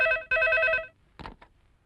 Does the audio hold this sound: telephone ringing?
yes